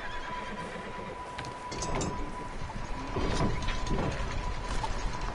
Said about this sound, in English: Hey, there's a horse over there.